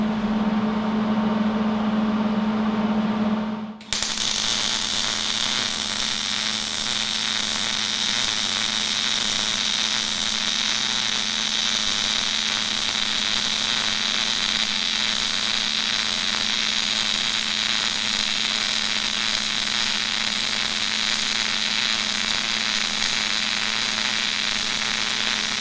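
A MIG welder runs steadily during vertical welding, a loud continuous hiss and buzz that starts abruptly after a short hum and holds unbroken, with no talk.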